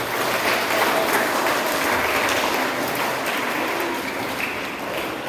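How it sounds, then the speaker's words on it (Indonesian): A church congregation at a Christmas children's service applauds the children, a continuous dense wash of clapping that holds steady and fades slightly toward the end. "Kita beri tepuk tangan untuk anak-anak kita semua."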